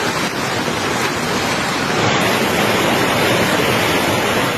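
Floodwater from the mountain rushes over a road in Lower Bayabas, La Trinidad, Benguet, a loud, constant broadband roar like a torrent that continues unbroken with no voices.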